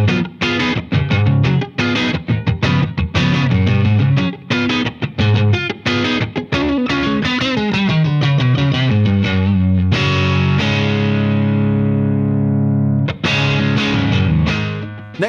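Electric guitar played through a Victory V4 Sheriff preamp pedal with classic British rock distortion, loud riffing chords and single notes, then a long sustained chord ringing out before more strumming.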